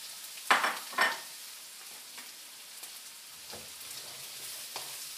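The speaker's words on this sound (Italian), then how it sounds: "un wok, un fondo d'olio e quindi le zucchine." Zucchini go into a wok with a thin layer of Cilento extra virgin olive oil and are stirred, with two sharp sizzling bursts at the start that fade to a quiet, steady fry and occasional soft stirring scrapes.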